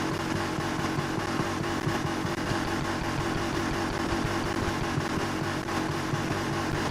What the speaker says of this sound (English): I could hear it revving faster,